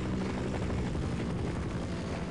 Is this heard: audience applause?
no